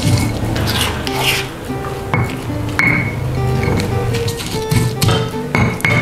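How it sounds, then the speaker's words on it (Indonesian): Bird's eye chilies are ground in a stone mortar with a stone pestle, a loud close run of gritty rubbing strokes broken by sharp stone taps and knocks. "Cabai rawitnya ini diulek sampai halus ya sahabatku."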